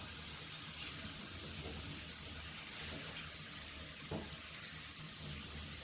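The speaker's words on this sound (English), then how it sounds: "And we want to rinse them really well." Canned food, drained and rinsed under a running kitchen tap, makes a steady, hissing stream of water, fairly quiet and continuous, with a couple of faint splashes.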